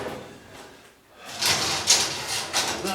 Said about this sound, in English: the two little thumb tabs, press the neck, and the drawer will come free.